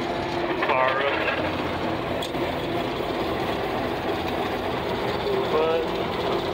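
A John Deere 4400 combine engine runs steadily in a bean field, a constant loud drone with a faint rising whine near the end and brief voices over it.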